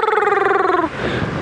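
A person on a sunset safari drive mimics the call of a woodland kingfisher: one close, loud, pulsing whistled trill lasting under a second, then it stops and leaves faint background noise.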